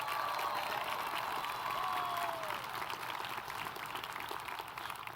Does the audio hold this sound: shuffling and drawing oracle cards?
no